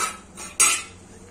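Spoon stirring coconut curry in a pan: two short metallic scrapes against the pan, the second louder and closer, over a quiet background with no speech.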